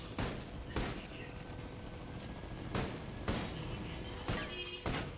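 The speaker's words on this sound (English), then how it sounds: "keep shooting" Gunfire from Ghost Recon Breakpoint comes in several sharp bursts of shots spread across a busy background of game noise, fairly close and loud.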